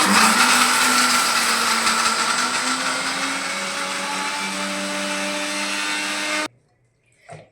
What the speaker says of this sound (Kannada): ಸ್ವಲ್ಪ ನೀರು ಹಾಕೊಂಡು ಮಿಕ್ಸಿಗೆ ರುಬ್ಕೊಳ್ಳೋಣ